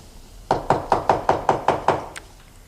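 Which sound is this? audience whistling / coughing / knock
knock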